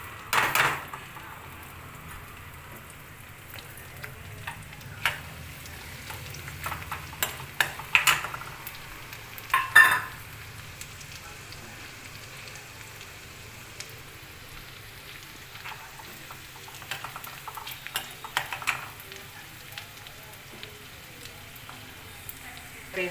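Green chillies frying in oil in a pan for chicken curry, a soft steady sizzle with scattered crackles and occasional spoon stirs, fairly quiet.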